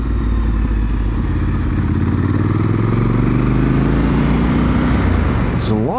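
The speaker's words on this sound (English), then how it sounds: "There's a lot of sounds from this bike. The engine, some kind of whistling sound in there, and of course the exhaust." Triumph Scrambler 1200 XC motorcycle engine and exhaust rumbling steadily up close, with rising and falling revs through the ride, loud and continuous with wind noise.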